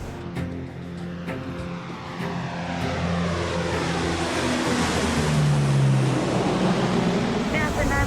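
NASA Super Guppy cargo plane climbing after takeoff, a steady broadband engine and propeller roar that swells and holds loud throughout, with faint voices underneath.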